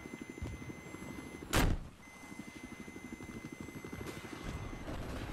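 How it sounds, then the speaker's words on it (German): Helicopter in the video game Battlefield 4 with a steady, rapid rotor chop running throughout, moderately loud, plus a sharp burst like an explosion or impact near the middle and engine rumble underneath. "Wo ist ein Heli? Direkt vor uns und rechts von uns."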